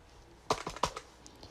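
Keys clacking on an Apple II computer keyboard, a short burst of about four firm strikes close by in a quiet room, followed by a couple of fainter taps.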